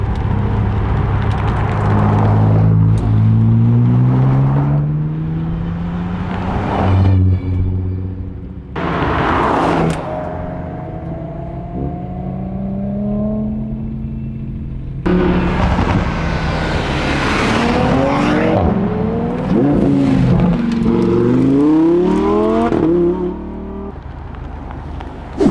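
Several supercars driving back down a road one after another, engines roaring and revving as they pass close by with loud rising and falling notes, then fading in short gaps between cars.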